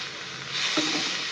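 Shrimp heads, cleaned and washed, fry in a pan with a steady, close hiss of sizzling oil, with a brief louder crackle partway through. No one speaks.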